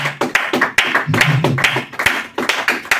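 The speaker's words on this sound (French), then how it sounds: "Est-ce qu'on peut acclamer le Seigneur? Acclamons le Seigneur." A church congregation claps loudly and close by in a quick, steady rhythm as they acclaim the Lord, a crowd of hands beating together in time for several seconds.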